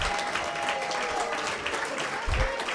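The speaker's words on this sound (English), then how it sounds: "Round of applause for Finil Musimi." Audience at a returnees forum clapping for a ticket prize winner, steady, moderately loud applause throughout, with a faint tonal whistle drifting over it and a brief low thump near the end.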